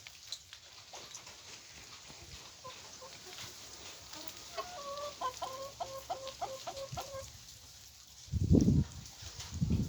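Chickens cluck and a rooster-like call repeats in a rapid rhythmic series from inside a village garden coop, moderately distant over a low outdoor hum, with a louder rustling burst near the end.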